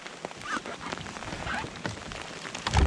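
Rain falling in a northern wilderness camp, a steady wash of drops pattering on surfaces with scattered louder hits and a heavier burst near the end.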